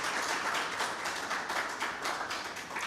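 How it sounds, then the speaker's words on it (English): An audience claps for the author at the book launch of Voices of Valour: A Tribute to Christian Defenders of Pakistan, a dense, steady round of applause filling the whole moment. "he does deserve a round of applause"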